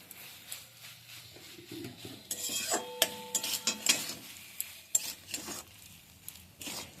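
Patishapta filling is stir-cooked dry in a pan, heard as faint, uneven scraping and rubbing of a spatula against the metal, with a few sharper clinks and little sizzle.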